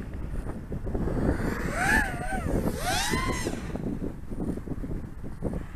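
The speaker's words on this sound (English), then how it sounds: "The wind is picking up a little bit" Wind buffets the microphone during an FPV racing flight of a Diatone GT M515 drone, a continuous rushing roar with the drone's motors whining and swooping in pitch as it passes overhead.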